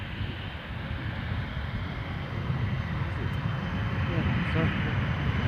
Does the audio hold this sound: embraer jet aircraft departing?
yes